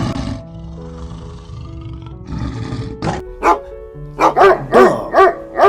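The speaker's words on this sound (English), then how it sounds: "lion" A lion gives rough, breathy roars over light background music, with short loud bursts toward the end.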